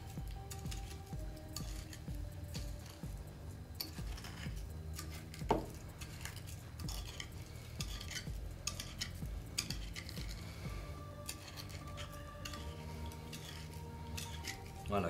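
Sugar being stirred to dissolve it in a pan for crêpes Suzette, with soft, steady scraping and light clinks of a utensil against the pan and a few sharper knocks. Someone talks quietly in French over it.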